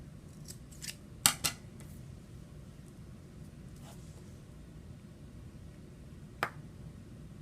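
Scissors snip through thick string while it is trimmed to length for hanging a polymer clay ornament, giving a quick pair of sharp cuts followed by one more isolated snip, close and clear over quiet room noise.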